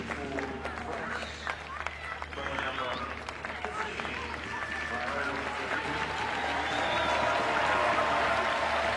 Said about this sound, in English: A big round of applause for Garbino.